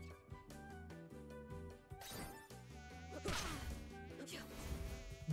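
Flies buzz in the video game Timespinner, a thin insect drone sitting under louder game music with a couple of sharp hits and crashes.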